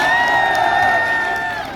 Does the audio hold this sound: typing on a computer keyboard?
no